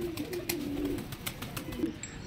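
Long-necked, long-beaked white-eyed pigeons coo in low, soft bursts, a couple of calls close by against faint background chatter.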